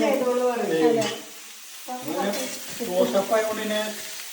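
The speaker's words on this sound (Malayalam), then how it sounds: "വഴറ്റി വരുന്നവരെ കുട്ടൻ്റെ ഡ്യൂട്ടിയാണ് അത് ഇളക്കി കറക്റ്റ് നോക്കിക്കണം" Sautéed ingredients are stirred in a cooking pan with a sizzling, scraping texture, partly covered by people talking nearby.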